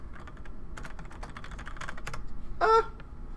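Fingers type on a computer keyboard during a programming meetup, quick irregular clicks and taps up close, ending with a brief squeaky honk-like noise.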